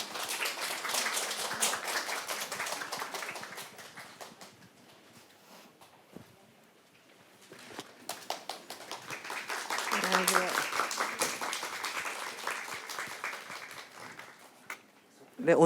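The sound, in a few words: audience applause at start of theatre performance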